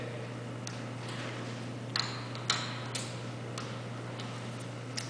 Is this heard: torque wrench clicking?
yes